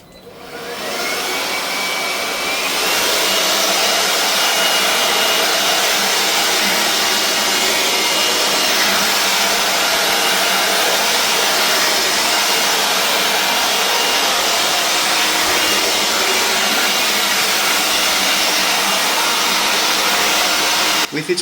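A Parkside 20V cordless leaf blower (PAUGB A1) running steadily at full power after a short spin-up, a loud continuous rushing whoosh of air with no breaks, alone without talk.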